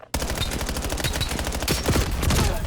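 Rapid automatic gunfire from Call of Duty Black Ops 7, a dense, loud burst of shots in quick succession lasting a few seconds without pause.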